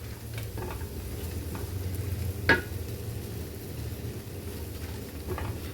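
Grated coconut and mint are sautéed in a hot pan, a faint steady sizzle with soft stirring scrapes and one sharp clink of the spoon midway.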